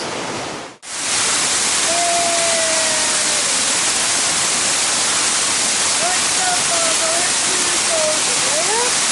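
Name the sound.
waterfall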